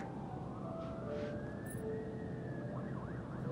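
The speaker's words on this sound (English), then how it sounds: "Why do I hear sirens?" A siren wails steadily in the distance in the video game Until Dawn, rising and falling beneath a dense wash of background noise.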